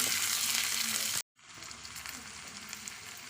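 Chopped onion sizzles in hot mustard oil with a loud, steady frying hiss that cuts out abruptly for a moment, then resumes slightly softer as the pieces are stirred.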